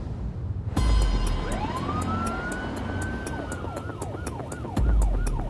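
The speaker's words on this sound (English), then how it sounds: "We're coming on blue lights and sirens" A critical care team's emergency vehicle wails its siren on the way to an accident, switching from a rising and falling wail to a fast yelp, loud and close over road noise.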